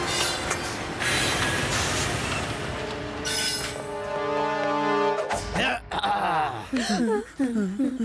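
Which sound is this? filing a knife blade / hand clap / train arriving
train arriving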